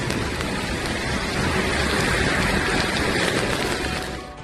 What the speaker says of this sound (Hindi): बुधवार को भोपाल के मंडीदीप में तेज बारिश हुई।